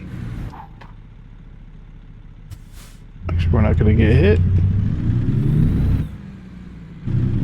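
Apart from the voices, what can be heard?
International LoneStar truck driving, American Truck Simulator video game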